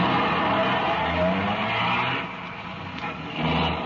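In an old-time Dragnet radio drama sound effect, cars pull out of a police garage with engines revving and tires squealing, close and loud, the motor noise swelling and easing over a few seconds.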